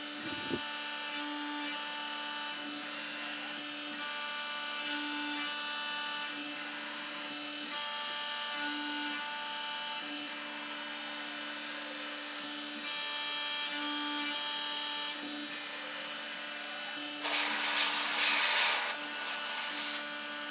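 Wooden golf divot repair tools are chamfered with a steady machine whine and light rubbing contact, continuous and moderate, ending in a brief louder burst of sanding.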